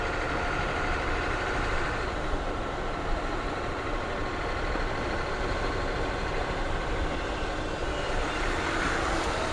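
A BJ truck engine runs after startup, giving a steady loud broadband drone with a low rumble and no breaks in level.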